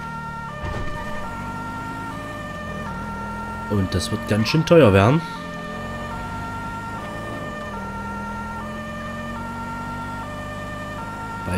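A police car siren in GTA 5 wails continuously with a repeating stepped two-tone pattern, sustained throughout under a man's speech and engine noise, with a brief louder burst midway.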